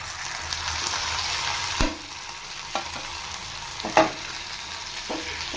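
Tomatoes frying for garlic tomato chutney, a steady close sizzle with occasional spoon knocks and stirring scrapes against the pan.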